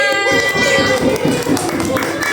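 Children clapping together in a classroom lesson in Jakarta, a short burst of rapid hand claps mixed with voices talking over it.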